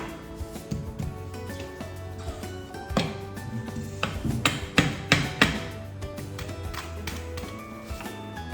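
A rubber mallet taps an item into place at home, delivering a run of sharp, fairly close knocks bunched in the middle with steadier light tapping before and after, over a quiet room.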